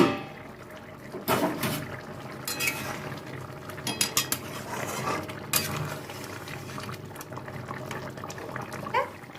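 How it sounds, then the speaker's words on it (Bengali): Metal pan clatter while cooking potatoes, the lid lifted off with clinks and scrapes of cookware over a faint sizzling, close and moderately loud. "ঢাকাটা খুলছি।"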